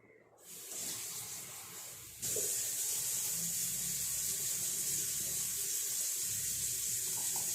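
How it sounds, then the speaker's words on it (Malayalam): A kitchen tap runs steadily as pressure cooker and mixer-grinder lids are washed under it, the flow starting softly then opening up into a loud, continuous hiss and splash. "ഇനി കുക്കറിൻ്റെ അടപ്പ് അല്ല മിക്സിയുടെ അടപ്പും കൂടെ കഴുകിക്കൊണ്ടുവരാം"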